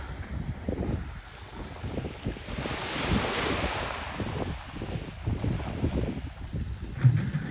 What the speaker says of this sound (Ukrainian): Хвильки на морі.